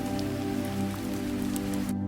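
Steady rain patters on a surface, a continuous dense hiss with scattered drops, then cuts off abruptly at the end.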